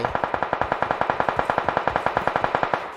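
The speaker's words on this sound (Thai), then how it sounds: "เสียงปืนมันนำพาเราไป" A steady burst of rapid machine gun fire in a video game, evenly spaced shots rattling continuously for a few seconds, loud and close, then stopping.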